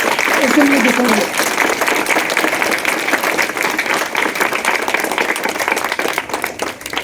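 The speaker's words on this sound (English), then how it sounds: "Then clap for all the children who have presented this beautiful assembly before you" Children who presented a school assembly receive loud, sustained applause from the audience, with a brief voice audible near the start before steady clapping takes over and tapers slightly at the end.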